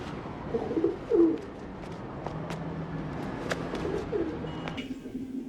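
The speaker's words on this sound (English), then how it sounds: "Those had to have been trained pigeons" Pigeons cooing in a film scene, a few soft low coos near the start and again later, over a muffled ambient background with light scattered clicks and shuffles.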